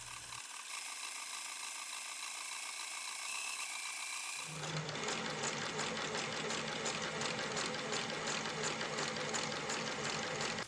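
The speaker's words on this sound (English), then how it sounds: "This fabric frays a bit, so I'll overlock it, and then put in a hem." Overlocker stitching the fraying edge of a fabric, a quiet steady mechanical whirr that starts up partway and then runs continuously with a rapid even chatter.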